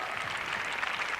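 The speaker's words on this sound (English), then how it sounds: "Let's give them a nice round of applause and wish them good luck." An audience claps for a baton twirling team in a brief, dense burst of applause, steady and moderately loud from start to end.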